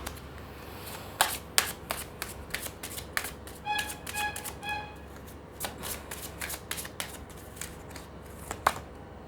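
A deck of romance angel tarot cards is shuffled up close, giving soft riffling flutters and light taps in loose bursts, with no voices.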